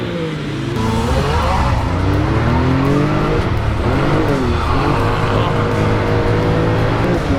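A 135-horsepower Can-Am Maverick X3 and a Maverick R of about 230 horsepower race side by side on a dusty dirt track. Their engines roar loud and close, rising and falling in pitch as they accelerate, with no gaps in the engine noise.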